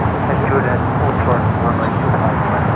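An American Airlines A321neo jet roars down the runway on its takeoff run at LAX, a broad, constant engine rumble that stays loud and steady throughout.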